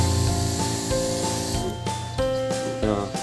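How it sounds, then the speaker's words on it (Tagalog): A 2-in-1 knapsack sprayer sprays continuously, giving a steady close hiss of spray with a faint mechanical hum beneath and short bursts of rustling. "Tuloy-tuloy lang yung spray niya."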